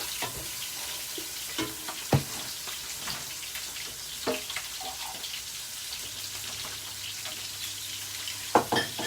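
Spices frying and being stirred in a pan for a fish curry with eggplant, a continuous crackling sizzle broken by occasional scrapes and clinks of the spoon, close and unaccompanied by speech.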